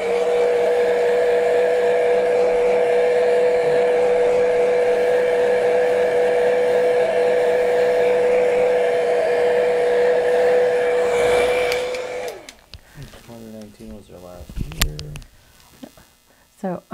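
A hair dryer blows steadily on a freshly painted spring-green daffodil canvas, a loud constant whir with a mains-like hum that runs for about twelve seconds before cutting off, followed by brief talk.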